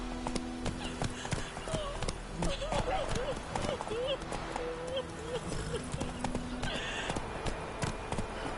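A horse's hooves clip-clopping at a run in The Witcher 3 video game, steady rapid hoofbeats with whinnying, under a voice.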